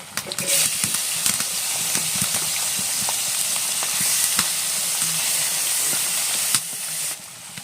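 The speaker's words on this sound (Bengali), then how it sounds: "কড়াই তেলটা গরম হয়ে গেছে, এখন আমি চিংড়ি মাছটা ভেজে নিচ্ছি।" Prawns fry in hot oil in a kadai for a jackfruit and prawn dish, giving a loud, steady sizzle and hiss with scattered stirring knocks. The sizzle drops off near the end, and there is no talk.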